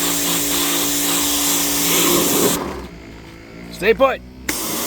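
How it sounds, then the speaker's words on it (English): Compressed air blasting stripped old paint off the fender of a 1973 Honda ATC70 during restoration, a loud steady hiss that cuts off midway, followed by someone briefly speaking and another short burst. "So it shouldn't take much to blow all this old paint off and get this thing nice and cleaned up again."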